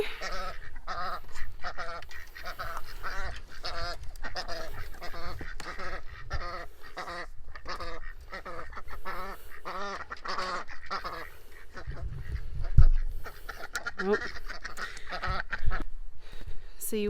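A flock of ducks quacks and honks continuously as they are herded, busy overlapping calls close by, with a person briefly speaking among them.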